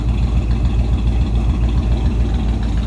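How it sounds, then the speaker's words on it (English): Steady low rumble from the V8 of a 1957 Oldsmobile 88 Holiday hardtop at idle, heard up close as an unbroken throaty drone with a slight rhythmic lope, no voices present. "Nice little rumble out of that V8."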